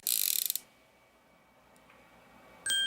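Gears of a welded mechanism turning, a short burst of rapid metallic ratcheting clicks up front, then near quiet, then a sharp mechanical whir starting at the end.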